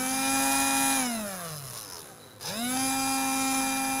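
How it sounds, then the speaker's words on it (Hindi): Small DC motor on a 9-volt supply whining loudly with a steady high-pitched tone, then sagging lower and quieter for a moment before spinning back up to full pitch, heard alone and close. "अब मैं 9 वोल्ट पर लगाने वाला हूँ। 9 वोल्ट के साथ मैं लगा दूंगा। अब आवाज़ देखना कितनी ज़्यादा लाउड हो जाएगी।"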